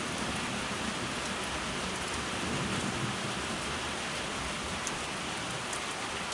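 Steady rain falls at night during a storm, a dense continuous hiss of drops on surfaces with no voices, a broad even wash holding at a constant level throughout.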